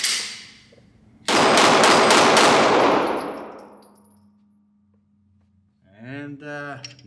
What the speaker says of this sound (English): But let's do some rapid fire.